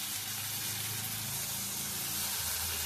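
A little water poured into sizzling prawn masala (chingri kosha) after the spices are fried down, producing a steady, close hiss and bubbling sizzle with no talk over it.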